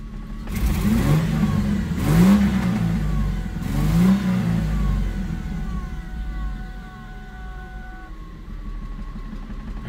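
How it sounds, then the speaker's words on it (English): A Ford Mustang SN95 with a 3.8L V6 revs repeatedly, three loud swelling pulls with a rough, shuddering misfire-like edge, then settles into a lower uneven idle. "as you rev it up, feels like a misfire, but then it goes away"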